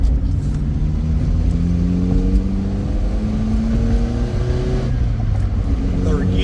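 A 1984 Dodge Rampage 2.2 sport truck with a 5-speed overdrive manual pulling through its gears, engine pitch rising steadily in each gear and dropping at the shifts, loud and close from inside the cab, with someone talking over it.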